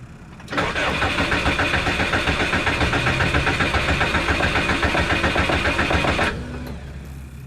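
A Subaru with a no-start fault cranks steadily and loudly for about six seconds with throttle applied, a fast, even churning that never catches, then cuts off abruptly.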